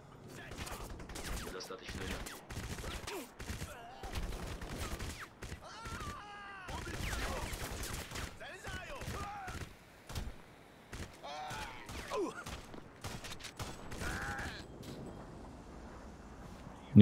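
Bursts of gunfire and thuds from the video game Crysis Warhead crackle in irregular volleys, moderately faint, with someone talking in between.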